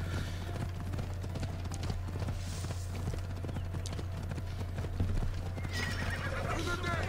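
A horse in Assassin's Creed Odyssey, steady clip-clop of hooves at a gallop with a whinny near the end, under game music and ambience.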